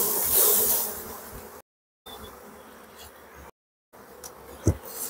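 Honeybees buzz steadily around a hive being split, a dense, close swarm drone that rises and falls, broken by two brief silent gaps, with a short knock near the end.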